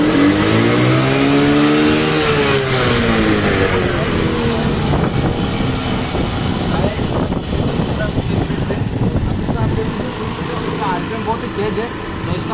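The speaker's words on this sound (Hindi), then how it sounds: "अब इसको बिना डायफ्राम के हम इसको स्टार्ट करेंगे" A gas-kit motorcycle engine, started without pressing its diaphragm, runs with a close, rough idle that rises and falls in revs, while someone talks over it.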